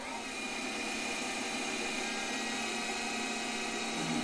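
A lathe cuts with a zero rake carbide insert, giving a steady mechanical whine with sustained tonal hum, fairly quiet and unbroken throughout.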